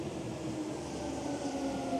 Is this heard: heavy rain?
no